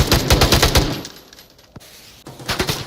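Bursts of rapid automatic gunfire ring out in a competitive shooter match, a dense rattling volley up front, a pause with a single sharp crack, then another fast burst near the end.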